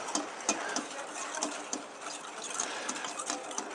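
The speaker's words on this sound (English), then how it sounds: "And I have a whisk. There we go. So we're simply going to whisk these up." A whisk beats eggs and sugar in a bowl, a quick, steady, moderately quiet clatter of wire against the bowl that keeps going without pause.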